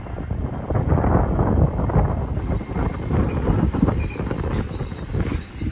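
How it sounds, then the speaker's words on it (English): LNER Azuma passenger train arriving at Peterborough station on the East Coast Main Line, a loud, continuous rolling rumble of wheels on track with some squeal and wind buffeting, steady throughout with no talk. "here we have an LNER Azuma service that will be coming in from London King's Cross going to Lincoln Central"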